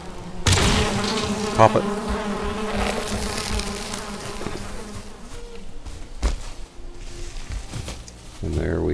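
Steady insect buzzing of bees swarming around a beehive in the survival video game Valheim, continuous throughout with a brief voice speaking over it.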